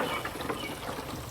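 Water pours from a 3-gallon, 12-liter watering can onto the soil around a Ruby Spice Summersweet shrub, a short, steady, close splashing trickle with no voices.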